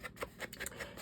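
Scissors snip through paper while a paper corset is being made, giving several quick, quiet cuts in a short uneven run, close by in a still room.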